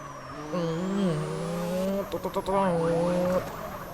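A synthetic-sounding pickup truck engine in GTA San Andreas drones at a steady pitch, rising and falling slightly, with a quick burst of rattling clicks partway through.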